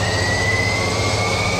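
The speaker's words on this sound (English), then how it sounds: "Start the right engine." The right engine of a Jetstream 41 turboprop airliner runs up during start, a loud steady turbine whine with a rising high tone over a deep rumbling drone, heard close from inside the cabin.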